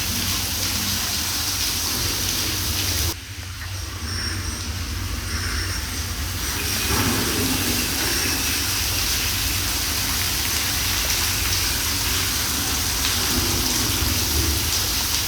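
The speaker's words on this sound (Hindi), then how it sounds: "ये देखिए, जंगल की बारिश।" Steady rain falls in the jungle of Jim Corbett, Uttarakhand, a dense, continuous hiss close around with no pause or voices.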